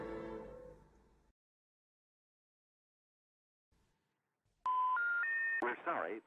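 Telephone keypad tones: after a lengthy silence, a sequence of stepped electronic beeps rises in pitch, loud and close, followed by a brief garbled burst; earlier a voice trails off.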